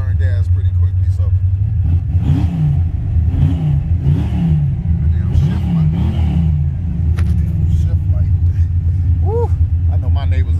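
A Chevrolet SS Monte Carlo V8 revs hard in repeated bursts, deep and loud with a rumbling idle between pulls, heard up close while someone talks excitedly over it.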